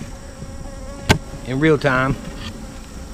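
Honey bees buzz steadily around an open hive during a split made with queen cells, with one sharp knock and a short stretch of someone talking over the hum.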